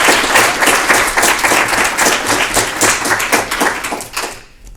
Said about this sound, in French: Je vous demanderai juste de l'applaudir pour commencer.